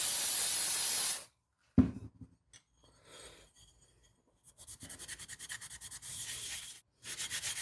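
Cleaner is sprayed onto the gasket surface of an Audi A4 B7 vacuum pump. A long, steady aerosol hiss is followed by quieter handling noises, then a run of rapid pulsing spray bursts close to the mic.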